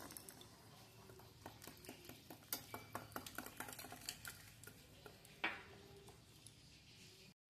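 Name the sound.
stirring and beating batter in a bowl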